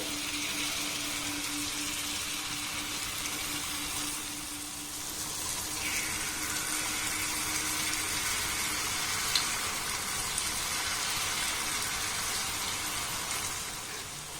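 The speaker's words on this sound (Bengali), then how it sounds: "গ্যাসের ফ্লেমটাকে লো রেখে এবার এগুলোকে আমি ভেজে নেব" Mango and semolina jalebi frying in a pan of oil over a low gas flame, a steady soft sizzle and crackle throughout, fairly quiet and close, with no talking.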